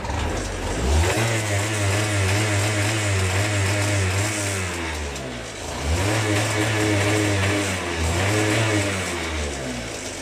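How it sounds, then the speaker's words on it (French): An Aprilia SR 50 R scooter with a 70cc kit runs loud and close, revving up repeatedly then dropping back, its buzzing pitch rising and falling, with no one talking. "regarde ce qu'il fait le scooter, tu vas capter direct"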